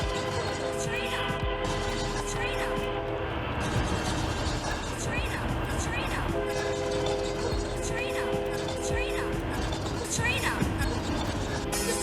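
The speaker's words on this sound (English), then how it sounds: "Well, we've got a choo-choo train." A Twitch hype-train alert plays a choo-choo train horn sound effect: repeated whistle toots over a dense, continuous bed of stream background sound.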